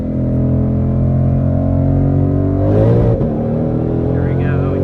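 A stock Ford Shelby GT500 accelerates hard toward 60 mph, its engine a loud, close, continuous roar with a brief shift-like dip near the end.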